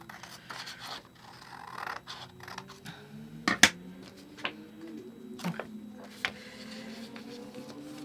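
Material trimmed while framing a print: a run of quiet, close scratchy cutting and snipping sounds, irregular and broken, with a few sharper clicks and taps between them and a low hum beneath, no speech.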